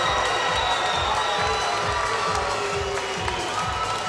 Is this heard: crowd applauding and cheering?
yes